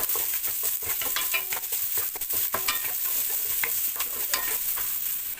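Onions fry in a pan for Filipino pochero, a loud, close, continuous crackling sizzle broken by frequent scraping and stirring clinks from start to finish.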